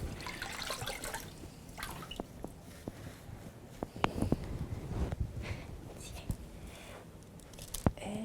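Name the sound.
splint material immersed in water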